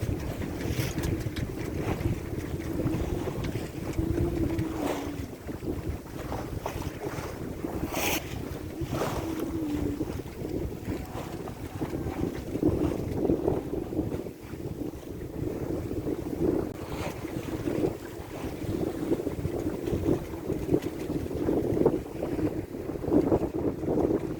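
A sailboat runs under wind while approaching Portsmouth, Dominica, with a steady rush of wind noise on the microphone and water washing along the hull throughout, without any speech.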